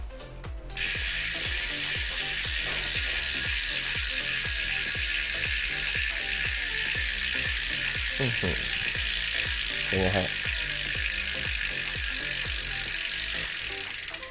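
A carbon bicycle wheel's hub freewheel spins and ticks in a fast, steady ratcheting clatter that runs on evenly, with a brief voice over it.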